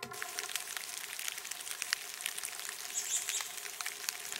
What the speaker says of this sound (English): So that's Forest Rain on Plants and Birds.